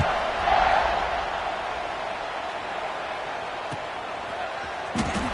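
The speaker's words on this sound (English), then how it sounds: "this crowd is buzzing after that last score" Stadium crowd in the College Football 26 video game keeps up a steady, loud roar of buzzing noise after a touchdown, with a couple of brief sharper bursts near the end and no clear talk over it.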